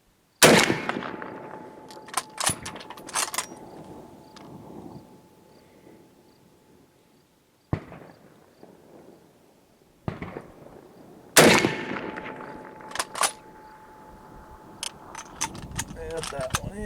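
Russian rifles firing steel case rounds give two loud, sharp gunshots several seconds apart, each with a long outdoor echo, along with metallic clatter from handling the rifle and brief speech.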